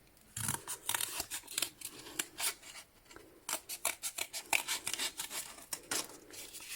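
Scissors snip through paper to cut out a narrow arch shape, a quick close run of crisp cuts and rustles with short gaps.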